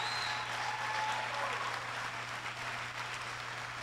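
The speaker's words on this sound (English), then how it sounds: "Give them another round of applause." Sustained audience applause at a mayor's State of the City address, a dense, steady wash of clapping that fills the whole stretch without a break.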